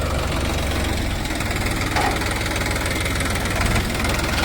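A heavy engine runs continuously with a low, knocking rumble and vibration, loud and close, steady from start to finish.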